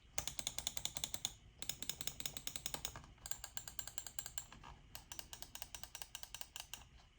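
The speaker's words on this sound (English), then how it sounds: "Let me go ahead and show you the EWEADN S9 clicking sounds." Rapid clicking of an EWEADN S9 Pro computer mouse's buttons in steady bursts, close and crisp, with short pauses between runs of clicks.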